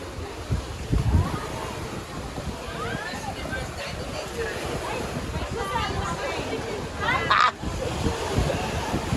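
Ocean waves at high tide wash and rumble steadily against the shore under gusts of wind, with people talking and calling out nearby over the continuous surf.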